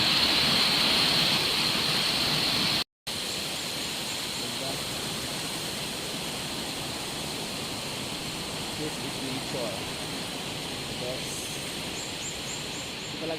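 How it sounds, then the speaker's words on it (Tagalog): Osambak Falls in Marilog District pours as a loud, steady broadband rush of water close by, constant throughout with a brief cut early on and faint voices beneath. "This is Sambak Falls."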